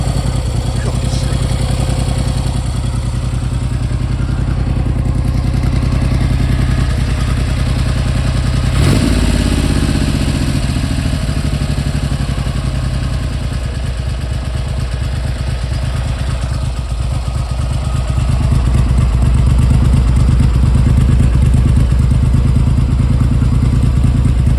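A Triumph Hurricane TRIX75 motorcycle engine runs loud and close on choke, a steady rough idle that starts to race slightly higher, with a brief clatter partway through.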